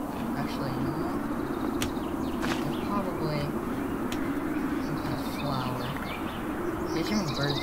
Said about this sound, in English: These are birds in the fence.